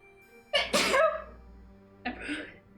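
A single loud, close sneeze bursts out with a sharp intake and explosive release, followed a moment later by a softer, breathy second sneeze or snort, with no talking.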